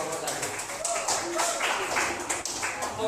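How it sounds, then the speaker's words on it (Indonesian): A classroom group claps for a student team after its presentation, scattered hand claps running through the whole stretch alongside people talking. "Sekali lagi tepuk tangan untuk kelompok 1."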